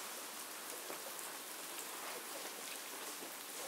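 Light rain falls steadily at an outdoor Shinto festival departure ceremony in Japan, a soft, even hiss of drops on surfaces with no voices.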